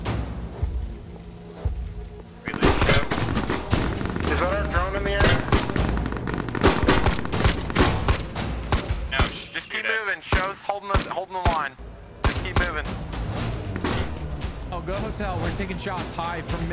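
Heavy gunfire in a PvP shooter video game, rapid bursts and single shots in dense, loud volleys, with players talking over the shooting.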